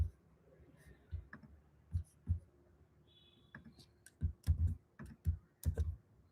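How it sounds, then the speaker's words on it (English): Typing on a computer keyboard to enter a web address, heard as irregular bursts of sharp key clicks with short pauses between them, close and fairly quiet, with no one talking. "Let me type in the URL just in case"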